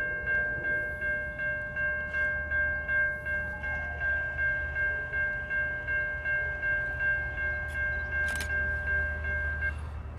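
A Norfolk Southern GP59E Operation Lifesaver locomotive passes on a hot June afternoon, its horn sounding a long steady blast over a low rumbling engine and rail noise, fairly distant and without talk.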